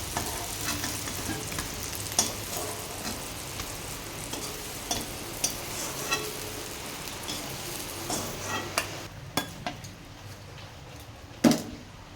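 Hilsa fish paturi frying in a pan gives a steady, close sizzle with occasional sharper clicks and stirring taps, and no one talks.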